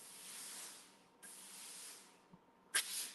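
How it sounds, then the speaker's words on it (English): Laura Star steam iron pressing fabric and releasing pulsed steam, several faint soft hissing bursts that start and stop at irregular moments, each with a sharper puff at the end. "I'm just going to be moving the iron, and it's going to release the steam when I need it"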